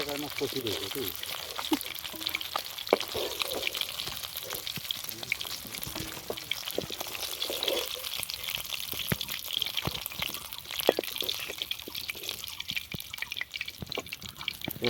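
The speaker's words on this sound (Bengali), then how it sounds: "লাল লাল করে ভাজা হয়ে গেছে" Large silver carp pieces frying in oil in a traditional home kitchen, giving a steady broadband sizzle with scattered pops and crackles throughout, while a voice talks in the background.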